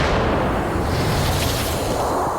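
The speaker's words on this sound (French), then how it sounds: "Un sursaut de rayons gamma." A documentary sound effect of a gamma-ray burst explosion gives a loud, sustained, rumbling roar with a broad whooshing wash that hangs without pause.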